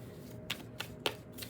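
Tarot cards being shuffled, with a few crisp riffling clicks and card slaps in an uneven rhythm, close and quiet, with no voices.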